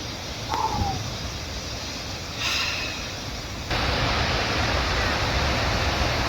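A waterfall in the Brecon Beacons pours as a dense, steady roar heard from behind the falling water, with a crow cawing briefly early on and the rush growing louder toward the end.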